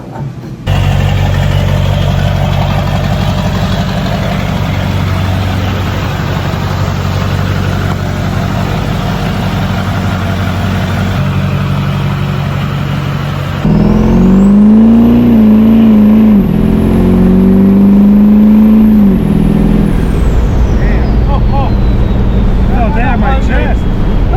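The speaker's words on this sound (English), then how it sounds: "This is an amazing engine." A powerful hot rod engine rumbles steadily at idle, then revs up with a rising roar and settles back, loud and close.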